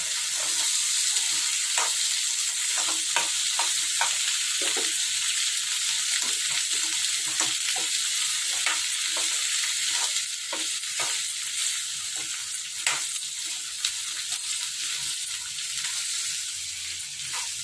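Cluster beans fry in oil and get stirred, a continuous bright sizzle broken by frequent scraping clicks of the spoon against the pan, close and fairly loud, without talk.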